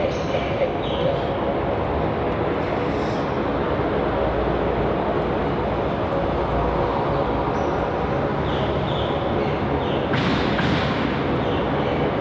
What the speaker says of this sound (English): we have a Qantas 737 speeding down that taxiway